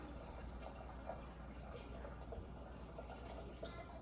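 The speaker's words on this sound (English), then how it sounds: "8 cups of water going into our gallon." Water poured from cups into a gallon jug, a steady, faint trickling and filling sound that runs continuously without talk.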